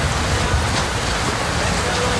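Heavy winter rain pours as a dense, even hiss with faint patter on surfaces, steady and loud for the whole stretch.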